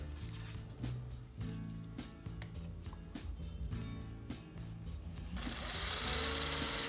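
Small electric motors on a hobby model run at 3 volts, a steady buzzing whir with low tonal hum that continues throughout, growing brighter and noisier near the end.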